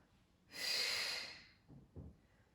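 A strong, close breathy exhale during a Pilates double leg stretch in a mixed-ability class working hips and core, lasting about a second, then a couple of softer breath sounds.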